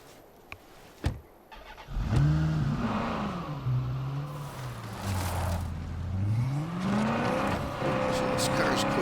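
A car in State of Decay 2 turns over with a couple of clicks, then its engine roars up and swoops through rising and falling revs as it accelerates, loud and close.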